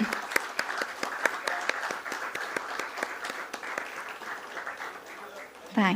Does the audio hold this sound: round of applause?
yes